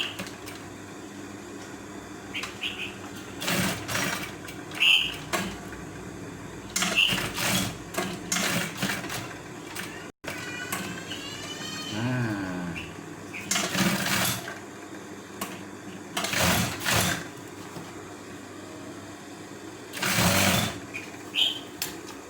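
A sewing machine sews a polo shirt collar in several loud, close bursts of rapid stitching, broken by pauses with faint handling noises and a short whining sound in between.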